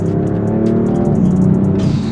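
A BMW M4 Competition F82 with its S55 engine accelerates hard, a loud steady engine roar rising in pitch over two seconds, heard up close from inside the car.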